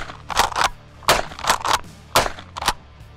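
Mossberg Maverick 88 12-gauge pump-action shotgun firing in the open, about six loud sharp reports in pairs at roughly one-second intervals, each blast with a short decay.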